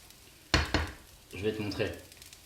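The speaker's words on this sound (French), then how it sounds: "Les casseroles font du bruit, ouais." Pans clatter with two sharp metallic knocks, then a frying sizzle as shallots cook in a home kitchen, with some stirring noise around it.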